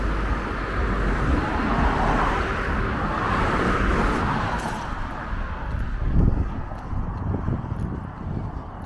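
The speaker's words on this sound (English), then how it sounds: "Sorry about the traffic noise." Steady roar of road traffic passing nearby, with wind rumble and a vehicle swelling louder toward the end; no one speaks.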